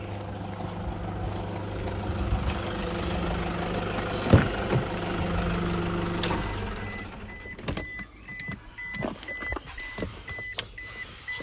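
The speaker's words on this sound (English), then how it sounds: "let me switch the engine off." A 2014 Toyota Hilux 2.5 D-4D diesel pickup engine idles with a steady low rumble, then cuts out partway through, leaving clicks and small mechanical ticks in the quiet.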